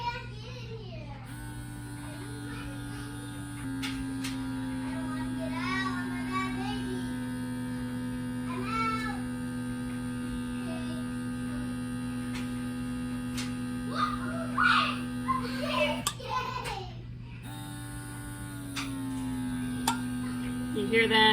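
An electric pump runs with a steady low hum, a hose attached to a lid for food storage vacuum sealing, droning continuously under children's chatter and nearby talk in a home.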